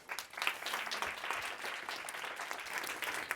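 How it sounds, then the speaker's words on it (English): Audience applause welcoming a panelist onto the stage at a panel discussion, steady dense clapping throughout, fairly distant and moderately loud. "I hope you give her a warm applause"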